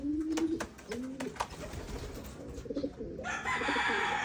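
Pigeons coo in a low, throaty rhythm during a free-fly recall, several close calls repeating in the first seconds before a brighter burst of wing flapping or fluttering near the end.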